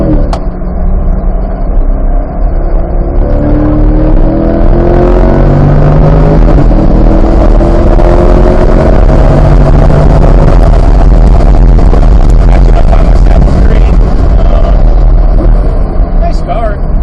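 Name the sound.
C8 car driving on Autobahn race track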